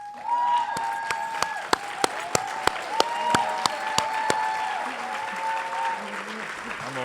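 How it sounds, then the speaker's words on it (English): Audience applause fills the room at the opening plenary of a national arts gathering, a steady dense clapping with sharp individual claps standing out, while a voice talks over it and tonal sounds ring through. "please stand with me and applaud them"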